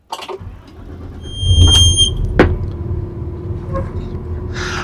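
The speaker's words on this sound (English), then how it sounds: "The vehicle needs to be started." A vehicle engine cranks and starts ahead of an air brake check, with a high beeping warning tone as it catches, then a steady low idle rumble continuing close by.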